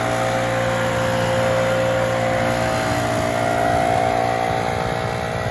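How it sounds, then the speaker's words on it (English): A backpack leaf blower runs steadily and loudly while cleaning a driveway, its motor drone holding a constant pitch with no pauses. "He's got that backpack blower on him"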